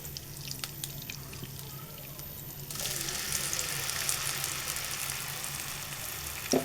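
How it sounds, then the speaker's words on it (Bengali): A blended paste of onion, garlic and tomato hits hot oil and starts frying, a quiet start giving way to a loud, steady sizzle for the rest of the clip, close by, with a brief clatter at the end. "এখন আমি তেলে কিছুক্ষণ এই মশলাটা যেটা ব্লেন্ড করে রাখছিলাম, এখানে আছে টমেটো, রসুন আর পেঁয়াজ, এটা একটু ভেজে নেব।"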